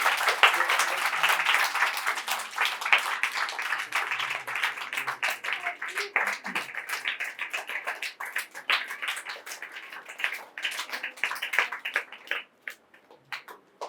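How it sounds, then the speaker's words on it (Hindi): An audience at a charity education centre inauguration applauds to welcome a guest, steady clapping that grows sparser and more scattered toward the end, heard fairly close and without talk over it. "आप सभी लोग तालियों से इस्तकबाल करिए।"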